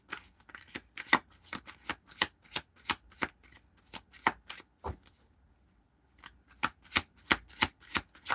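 Tarot cards being shuffled by hand, quick crisp riffling bursts in a steady rhythm, close and clear, with a brief pause midway before the shuffling resumes.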